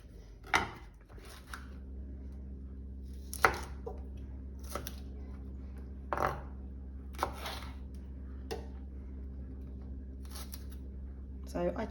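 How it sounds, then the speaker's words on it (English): A knife chops chilies on a board in sharp, irregular single strikes spaced a second or more apart, close and clear over a low steady kitchen hum. "the chilies need to be finely chopped and put in the pot"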